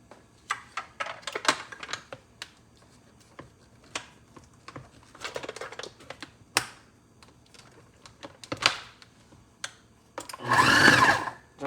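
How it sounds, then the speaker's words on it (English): Cold butter being pulsed into biscuit dough in a food processor: a string of short, uneven motor bursts with quiet gaps between them, ending in one longer, louder whirring pulse. "Just gonna pulse it just about 6 times"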